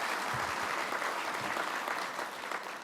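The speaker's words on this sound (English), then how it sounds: "Another round of applause for them." Continuous applause from a conference crowd at CPAC 2022, a dense steady patter of clapping that holds throughout without a break.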